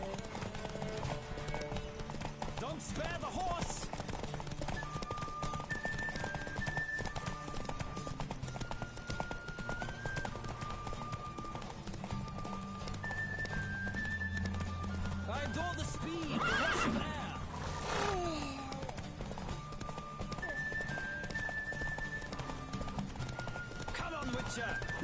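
In The Witcher 3: Wild Hunt, horses whinny and clip-clop at a steady trot under a busy, continuous game soundtrack, with voices calling out over the hoofbeats.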